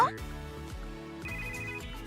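Phone ringtone in Goddess of Victory: Nikke: a melodic electronic ring tone repeating in a steady pattern over background music, close and clear.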